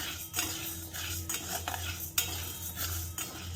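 Dry sago pearls roast in a pan as a spoon scrapes and stirs them, giving a steady rustling hiss with repeated metallic scraping strokes close by.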